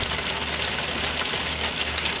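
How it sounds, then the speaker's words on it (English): Rain falling on an outdoor film set, a continuous soft hiss of drops hitting the surface, even and fairly quiet, with a faint low hum underneath and no voices. "The rain."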